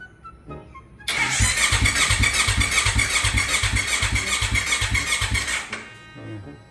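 A Kawasaki Ninja 250 Fi motorcycle with trouble starting cranks over and over, its starter giving a loud, rapid rhythmic churning for about five seconds without catching, then falls quiet.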